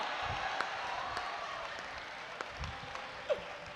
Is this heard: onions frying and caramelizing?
no